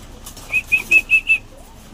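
Racing pigeons flapping their wings at close range, five quick rhythmic whistling beats in a row, then quiet.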